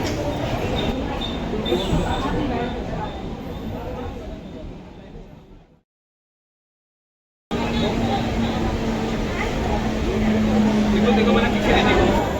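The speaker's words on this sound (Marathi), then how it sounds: "जस्ट ट्रेन आले इकडनं डायरेक्ट लालबाग परेल ट्रेन आहे" A Mumbai local train pulls into Thane station, its rumble and rattling carriages filling the platform before a short gap, then a louder steady roar with a faint squealing tone as it comes in.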